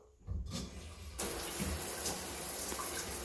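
Water runs steadily from a freshly reinstalled shower head, a soft start that swells into a loud, continuous hiss of spray close by, with no talk.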